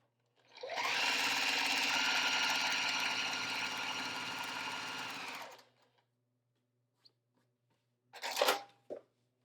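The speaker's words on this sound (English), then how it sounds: "So I'm just gonna sew it on." A sewing machine stitching a fabric strip onto a quilt block runs in one fast, steady burst for about five seconds, then stops; a few faint clicks and a short handling rustle follow.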